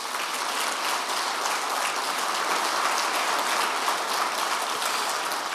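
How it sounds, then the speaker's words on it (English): An awards ceremony audience applauding retirees, sustained crowd clapping forming a dense, even wash of sound, fairly loud and unbroken without speech. "So maybe a round of applause for our retirees."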